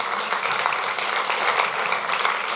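An audience applauds the organizing team at a conference event, a steady, dense wash of clapping held at an even level throughout with no pauses.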